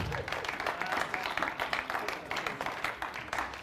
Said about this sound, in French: Oh, acclame, acclame, acclame.